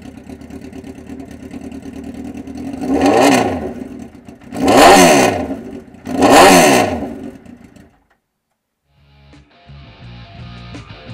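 A 2006 Suzuki GSXR1300R Hayabusa motorcycle fitted with a Voodoo slip-on muffler idles with a lumpy rumble, then revs sharply three times, each blip rising and falling. The engine cuts off and near-silence follows, then faint clatter.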